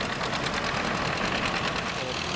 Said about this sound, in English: How you like the old tractor? Oh, I love the old thing. It runs good and whatnot.